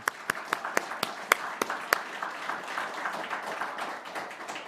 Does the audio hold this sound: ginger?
no